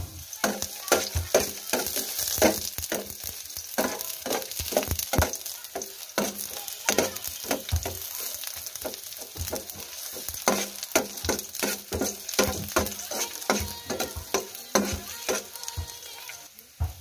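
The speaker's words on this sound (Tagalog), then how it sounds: "So, igisa din natin yung paminta para mabango." Garlic and black pepper sauté in a hot pan for a coconut-milk adobo, with a constant close sizzle and frequent sharp clatters of a spatula stirring and scraping, and no speech.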